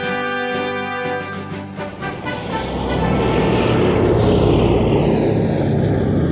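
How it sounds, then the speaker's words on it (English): A WWII Soviet bomber's propeller engines drone loudly and steadily, with a throbbing tone that builds into a fuller roar. The engines sound close, and no voice is heard. "One of such aircraft was piloted by a young pilot, Vladimir Petrov."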